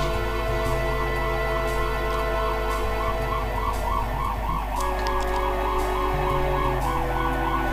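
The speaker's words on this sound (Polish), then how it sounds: "mam nadzieję, że nie słychać syren" Emergency vehicle siren wailing continuously outside, a steady cycling tone heard at a distance behind a low constant hum, with no talking.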